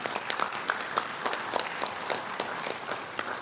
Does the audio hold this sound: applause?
yes